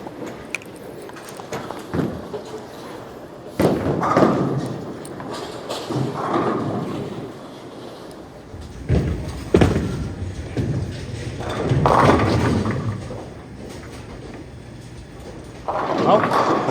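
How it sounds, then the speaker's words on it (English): A Roto Grip Attention Star bowling ball is released and rolls down the lane, with heavy thuds and a rumbling roll amid indoor bowling-alley noise and people talking in the background. "We'll throw one more with the Attention Star"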